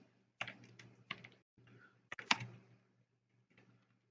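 Typing on a computer keyboard: soft, close clicking keystrokes in small irregular clusters, quiet and separated by short pauses.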